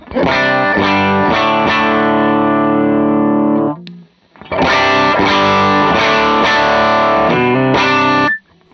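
A clean electric guitar plays bright, ringing strummed chords through effects pedals, two long phrases separated by a brief pause, loud and close.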